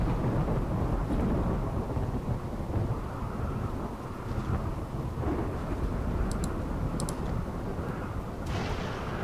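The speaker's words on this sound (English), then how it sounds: "Thankfully we got a rainy thunderstorm" Rainy thunderstorm in the video game RimWorld: steady heavy rain wash with low rolling thunder rumbles, a few brief crackling bursts, no talking.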